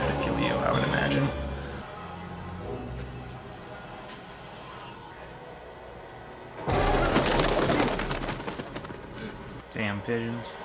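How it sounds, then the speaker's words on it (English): Pigeons cooing in a scene from the 1990 film Predator 2, soft throaty coos with some wing flutter, heard amid loud film sound and people talking over it. "Damn pigeons."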